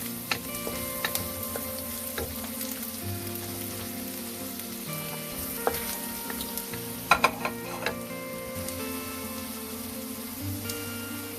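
Garlic fries in hot oil in a wok, a continuous crackling sizzle with scattered louder pops and scraping stirs, plus a faint steady hum underneath.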